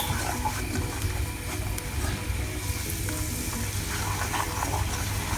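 Cornmeal toasting in melted butter in a pan for Turkish mıhlama gives a steady, close sizzle that runs without a break from start to finish. Light stirring clicks come through now and then, and no one speaks.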